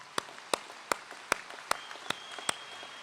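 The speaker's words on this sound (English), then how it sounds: "Give these guys a round of applause." Scattered, sharp claps from the audience at a 2015 commencement ceremony honoring the graduating class: about seven distinct claps spaced fairly evenly over three seconds, sparse and not a full ovation.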